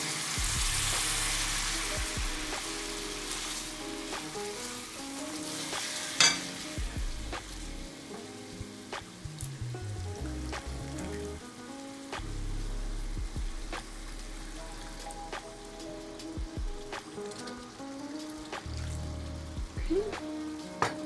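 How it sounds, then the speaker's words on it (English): A cup of pasta water hits a hot pan of pumpkin sage sauce for fettuccine, a loud hiss and sizzle at first that settles into steady frying with stirring scrapes and occasional clinks. "Okay, so now I'm gonna add a cup of our pasta water."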